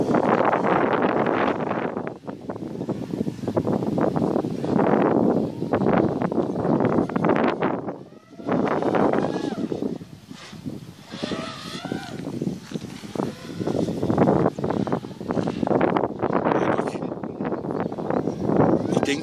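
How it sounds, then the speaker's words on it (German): Strong wind buffets the microphone outdoors in heavy, irregular gusts, nearly constant with a brief lull midway, while people talk throughout. "So windig."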